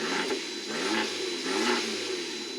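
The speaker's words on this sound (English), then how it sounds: "Now you can hear that turbo spooling up as well" A turbocharged 2012 Fiat 500 Abarth engine revs loudly with a rising turbo whine and throaty exhaust, surging and easing in a few waves over a constant rumble.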